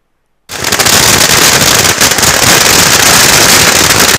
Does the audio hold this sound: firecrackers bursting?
yes